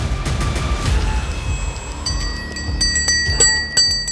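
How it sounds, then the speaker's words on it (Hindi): A sadhvi rings a ritual hand bell during an invocation rite in Manali. Several bright metallic strikes ring out clearly and leave lingering tones, loud and close, with no speech. "साध्वी ने घंटी बजाई"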